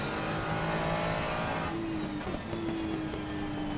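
A Ferrari 296 GT3 race car in Assetto Corsa Competizione on track at Watkins Glen, its engine droning steadily loud with a rising tone as it accelerates, racing alongside other GT cars.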